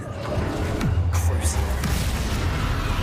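Bombarda explosion spell going off in a Hogwarts-style video game, a deep booming blast with a low rumbling tail under continuous game noise and a voice.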